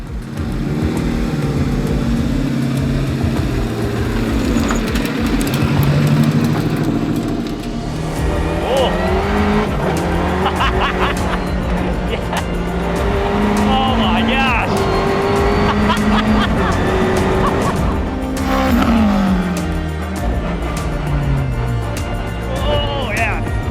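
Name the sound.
Renault Clio driven hard on a ride-along, tires squealing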